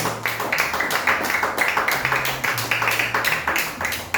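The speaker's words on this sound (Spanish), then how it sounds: "Denle aplauso al Señor." A church congregation claps in a steady rhythmic beat during a sermon, the evenly spaced claps repeating about three times per second at moderate volume, with low sustained tones faintly beneath.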